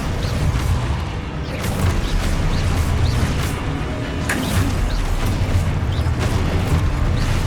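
Spell blasts in the Hogwarts Legacy video game: a dense, loud continuous wash of magical whooshes, bursts and crashes layered over a low booming rumble, with repeated sharp hits through the clip.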